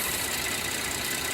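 A high-mileage 2010 Chevy Traverse engine with over 200,000 miles runs steadily at idle, a constant close mechanical hum with a faint clanking texture and no pauses.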